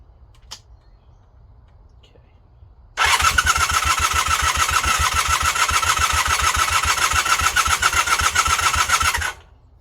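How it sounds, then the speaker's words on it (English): A Honda Hondamatic 400 motorcycle that has sat unused for over 20 years, with its carburetor gravity-fed fuel from a bottle, cranks loudly with a rapid steady chugging for several seconds after a quiet pause. The engine never catches and fires. "It sounds like it wants to go, but it can't."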